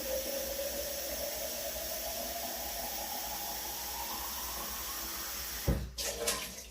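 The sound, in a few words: filling canning jars with water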